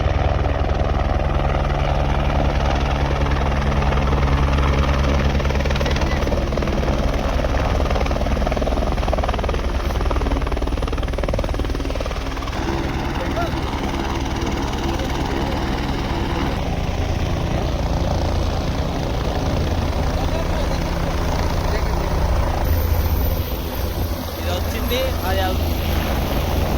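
A helicopter approaches the Kedarnath helipad with a loud, continuous rotor and engine drone that holds steady for nearly half a minute. Voices can be heard faintly beneath the roar.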